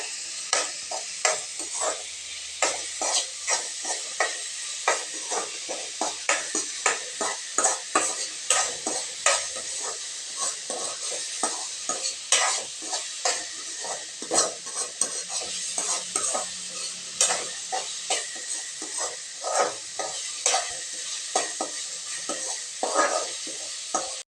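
Onions sizzle in a hot pan with turmeric while a spatula scrapes and stirs them in quick repeated strokes, close up, with no talking.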